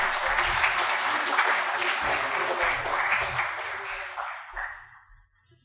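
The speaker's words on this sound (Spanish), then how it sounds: "Un aplauso, por favor." An audience at a school humanities and sciences seminar applauds a speaker being introduced, a full round of steady clapping that gradually thins and fades out over about five seconds.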